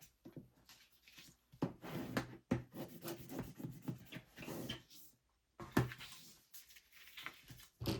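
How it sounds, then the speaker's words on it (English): Burnishing tape and Tyvek onto a binder by hand, quiet rubbing and scraping strokes in short uneven bursts, close and faint, with brief pauses and no talking. "You need to burnish everything very well."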